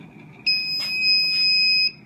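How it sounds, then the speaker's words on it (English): A Leak Guardian leak detection system alarm sounds a single steady, piercing electronic tone lasting about a second and a half, close and loud, with no voices. "So that is a Leak Guardian in alarm condition"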